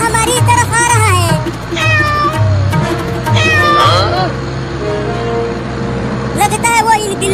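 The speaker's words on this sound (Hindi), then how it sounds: "एक बिलोटा हमारी तरफ आ रहा है।" A cartoon tomcat meows repeatedly in drawn-out, wavering cries over a rumbling car engine, with kittens' higher mews mixed in.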